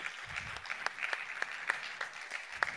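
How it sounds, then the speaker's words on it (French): A crowd applauding steadily after a round-table discussion at a forum, many hands clapping at once with a few sharper claps standing out, moderately loud and without voices. "Vous pouvez les applaudir."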